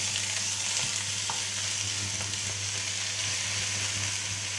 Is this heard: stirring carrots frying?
yes